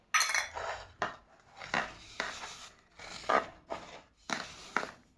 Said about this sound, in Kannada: ಹೀಗೆ ಚೆನ್ನಾಗಿ ಕಲಸ್ಕೋಬೇಕಾಗ್ತದೆ ಹಿಟ್ಟು.